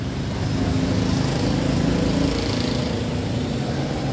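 Used Japanese Mitsubishi diesel engine running steadily at close range, a loud continuous rumbling chug with no talk over it.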